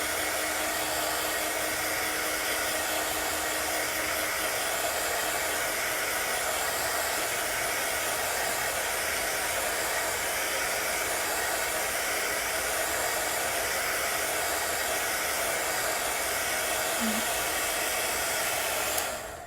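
Hair-dryer-style drying tool blowing a loud, steady whoosh over chalk paste on a silk screen, unbroken and close for the full stretch with no talk.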